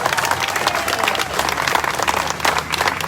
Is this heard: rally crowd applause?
yes